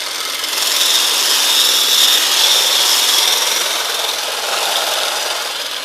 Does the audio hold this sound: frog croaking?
no